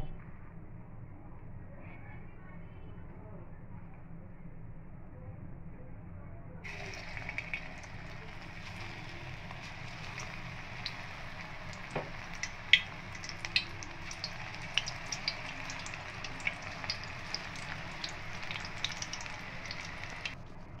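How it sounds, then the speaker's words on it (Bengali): Soybean chunk pakoras fry in hot white oil in a wok, a faint steady hiss that jumps into a fuller sizzle once the pieces go in, dotted with small crackles and pops. "এবার আমি সয়াবিন বড়ির পকোড়া ভেজে নেব।"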